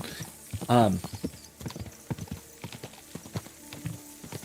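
Horse hooves in Kingdom Come Deliverance II clip-clop steadily and quite faintly, with a brief whinny near the start and someone talking over them.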